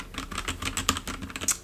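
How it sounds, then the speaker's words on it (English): Close, rapid typing on a DURGOD K710 wireless mechanical keyboard, a dense run of crisp clacking keystrokes at an uneven rhythm, with no voice over it. "This is a wireless mechanical keyboard"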